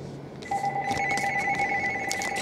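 Telephone ringing indoors with an electronic ringtone that starts abruptly and trills in quick repeated pulses, loud and close over a low room hum.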